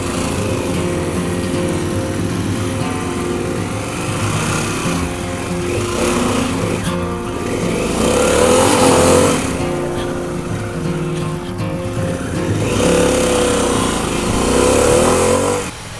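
Motorcycle pulling away onto a road on a sunny day, a loud close engine drone that rises and falls through a couple of throttle swells as it rides off.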